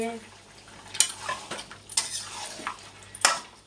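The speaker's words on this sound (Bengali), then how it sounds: "চিকেন দিয়ে দিলাম এখন ভালো করে মশলাটা মাখাবো চিকেনের সাথে" Spoon stirring chicken pieces into spice masala in a pan, with soft scraping and clinks of the utensil against the pan and a few sharper knocks, sounding close and fairly quiet.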